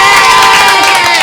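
A crowd at a live youth singing show cheers and shouts loudly, a dense roar of voices filling the brief moment.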